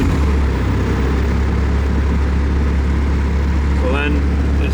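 A Bobcat skid steer loader's diesel engine starts and settles into a loud, steady, close rumble that runs throughout, with a brief whine rising near the end.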